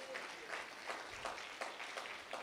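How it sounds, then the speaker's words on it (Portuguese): Congregation at a church sermon on Jesus and the acceptable year of the Lord applauds, a steady wash of many hands clapping at moderate distance, with a faint voice underneath. "Uma salva de palmas para o Senhor"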